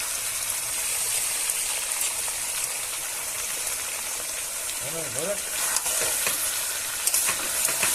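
Chicken for curry is stir-fried in a pan at a night picnic, with a continuous sizzling hiss, occasional scraping and a brief rising tonal squeal midway.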